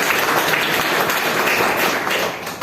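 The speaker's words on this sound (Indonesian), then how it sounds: "Boleh minta tepuk tangan untuk aplikasi Pintu?" Audience applause at a Standupindo comedy show in Bali, a dense continuous patter of clapping from a crowd that holds steady and tails off slightly at the end.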